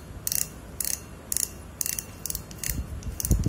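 A Captain Lyfe fishing reel clicks in several short, crisp bursts of rapid ratcheting, close and moderately quiet, followed by a few low handling thumps near the end.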